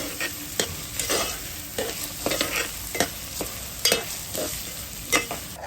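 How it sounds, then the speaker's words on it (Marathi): Two chopped onions are sautéed in a pan for a Kolhapuri whole masoor dish, with a constant sizzle under rhythmic scraping stirs coming about twice a second, close and fairly loud. "कांदा आता चांगला परतून घ्यायचा आहे आपल्याला"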